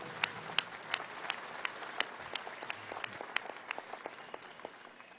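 Applause from a sizeable crowd at a political rally in the Poliedro, Caracas, scattered sharp claps over a steady patter, moderately loud and a little distant, with no voices standing out.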